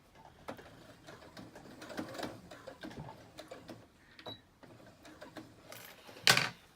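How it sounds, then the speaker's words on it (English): Sewing machine stitching a duvet seam, a quiet rapid mechanical ticking with short bursts and pauses, ending in a louder clack. "I sewed all the way to the end, but I meant to sew just to a 1/2 inch before the end."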